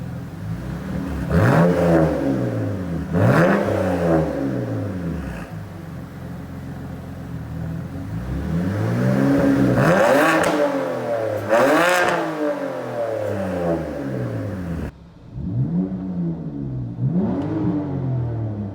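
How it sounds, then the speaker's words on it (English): A BMW 128i M Sport inline-six with factory headers, factory mid-pipe and a muffler delete revs loudly and close up in repeated rising-and-falling sweeps, with a brief dip near the end, and nobody talks over it. "he did a muffler delete, so factory headers, factory mid-pipe, and a muffler delete. It sounds great, like surprisingly good."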